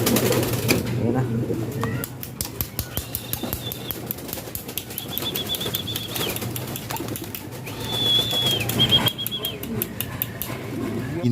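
Racing pigeons released from their loft at dawn, their wings flapping in repeated bursts at close range, with faint cooing under a steady low background hum.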